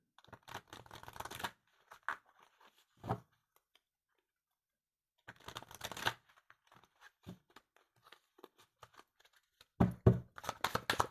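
Quiet bursts of oracle cards being shuffled, crisp papery riffles in a few separate clusters with pauses of silence between them.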